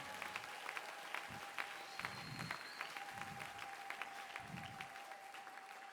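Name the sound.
congregation applauding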